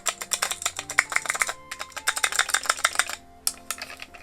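Rapid clicking from the clicker keys of a 3D-printed fidget toy shaped like a Polly Pocket compact, in bursts of crisp plastic clicks with brief pauses, close and fairly loud.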